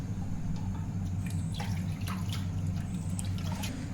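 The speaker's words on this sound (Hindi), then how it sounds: "लेटस को अच्छे तरीके से धो लें।" Lettuce rinsed under a running kitchen tap, a steady close hiss of flowing water with scattered drips and splashes throughout, no voices.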